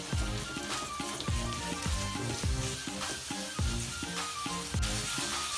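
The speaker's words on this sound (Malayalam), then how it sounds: "ഇനി നമുക്കിതിലേക്ക് ഉള്ളി ഇതുപോലെ അരിഞ്ഞത് ആഡ് ചെയ്യണം." Five chopped medium onions fry in a pan for a Kerala-style egg roast. A constant close sizzle runs with regular rhythmic stirring strokes, and no voices.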